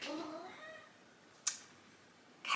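A cat meows with excited, harmonic calls at the start, followed by two short, sharp noises later in a quiet indoor room where makeup is being applied.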